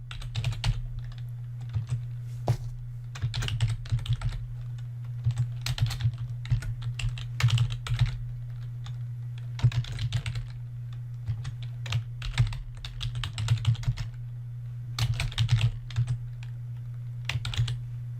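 Computer keyboard typing, with bursts of keystrokes and short pauses between them while data is entered into an Access database table, heard up close over a steady low electrical hum.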